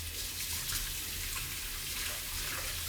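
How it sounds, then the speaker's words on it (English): Tap water runs steadily over an egg beater being rinsed in a kitchen sink, a continuous close hiss of flowing water with no talk. "rinse it off."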